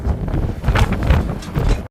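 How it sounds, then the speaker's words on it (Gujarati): Strong wind buffets the microphone in loud, gusty rumbling bursts, suggesting travel outdoors with air rushing past. "જો કેટલો પવન આવે"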